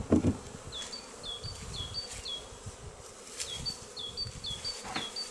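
Honeybee colony humming during a quick spring hive inspection, a steady close buzz of many bees with individual insects zipping past, a brief knock at the start, and no talking.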